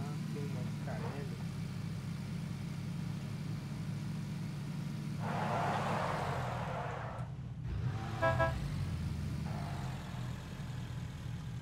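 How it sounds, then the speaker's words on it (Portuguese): A car approaching in the video game PUBG Battlegrounds produces a low, steady engine hum under ongoing voices, with a louder surge of noise near the middle. "Olha o carro, carro vindo, carro vindo, carro vindo."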